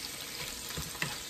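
Oxtail curry being stirred in a pot with garlic and water, a soft continuous sizzle and bubble with a few faint scraping stirs, close and steady, no talking.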